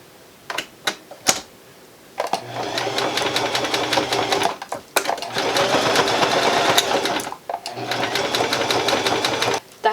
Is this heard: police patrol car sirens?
no